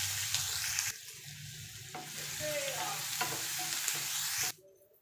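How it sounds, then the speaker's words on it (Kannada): Mustard seeds, cumin, split chickpeas and urad dal fry in oil for a radish side dish. A close, busy sizzle with scraping stirs runs for several seconds, then cuts off abruptly near the end. "ಸಾಸಿವೆ, ಜೀರಿಗೆ, ಕಡಲೆಬೇಳೆ, ಉದ್ದಿನಬೇಳೆ ಇಷ್ಟನ್ನು ಫ್ರೈ ಮಾಡ್ಕೊಳ್ತೀನಿ"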